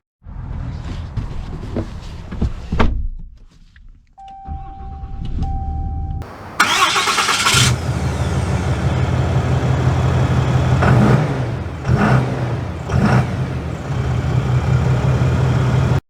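A door shuts and a chime sounds, then a 2022 Ram 3500 High Output Cummins diesel pickup truck engine cranks and starts loudly, settling into a deep, rumbling idle with occasional revs.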